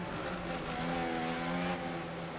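A Sauber Formula 1 car in the racing game F1 25 hums with a steady, droning engine note, a sustained mid-pitched tone that holds roughly constant as the engine fails, with no one talking over it.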